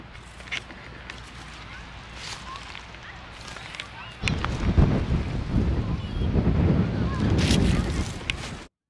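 Strong wind outdoors buffeting the microphone, a constant low rumble that surges much louder halfway through and then cuts off abruptly, with faint background sounds beneath.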